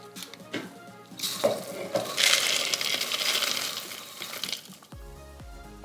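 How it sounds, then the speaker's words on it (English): Air-fried Chex Mix tumbles from an air fryer basket into a serving bowl, a dry rattling pour that swells and thins over several seconds, ending with a couple of clunks. "then pour it in your serving bowl."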